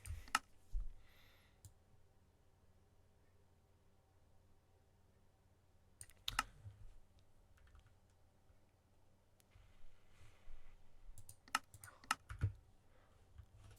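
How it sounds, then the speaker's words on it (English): Soft clicking of keys on a computer keyboard, picked up quietly in irregular bursts of rapid taps separated by long near-silent pauses, with no voices. "I wonder if my keyboard's too loud"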